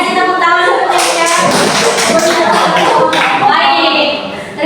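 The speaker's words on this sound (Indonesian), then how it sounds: "Oke, kasih tepuk tangan ya." Children clap together in a classroom, a dense, steady patter of many small hands that fills the room for several seconds, with young voices chattering over it throughout.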